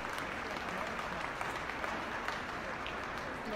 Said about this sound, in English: you just hear the sounds of applause